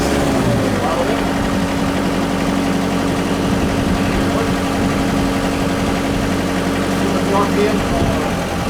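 The diesel engine of a flood-damaged Kubota KX121 excavator runs steadily close by with a sustained hum and slight rise in pitch under throttle, while voices talk over it.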